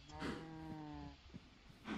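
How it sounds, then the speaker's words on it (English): Blocky cows in a Minecraft survival world let out a clear, close moo, with a few breathy noises around it and a second moo starting at the end, with no talking. "Look how much cows we have."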